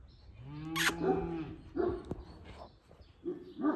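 A young female Kangal dog barks and whimpers at close range, with a few short, pitched vocal bursts spread across the moment, while people talk around it.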